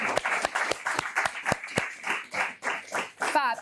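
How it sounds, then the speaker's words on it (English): An audience at a youth conservation careers symposium claps, with sharp, irregular hand claps over a steady patter, fairly close and lively, mixed with voices. "Let's have a round of applause for this brilliant advice."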